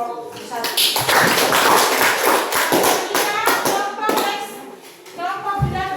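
A classroom of students claps for a group of classmates: dense, steady applause with chatter and voices mixed in throughout.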